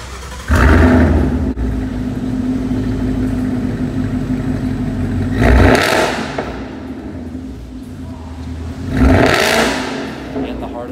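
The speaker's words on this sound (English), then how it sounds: "it's running a Roush axle back exhaust with a Resonator Delete and it sounds pretty aggressive" A Ford Mustang S550 with a Roush axle-back exhaust and resonator delete idles with a deep burble, then revs sharply twice, each rise swelling loud and settling back to idle.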